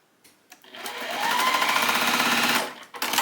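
A sewing machine stitches the corner of a small pincushion: a brief start, then a steady, fast mechanical whir of needle strokes that runs for about two seconds and stops abruptly, with faint handling sounds around it.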